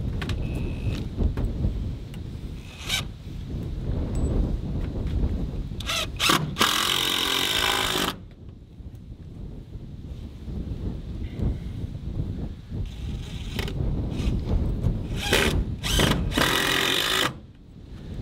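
Power drill driving wood screws to anchor a pole to a wall, several short loud whirring bursts separated by quieter handling noise and pauses.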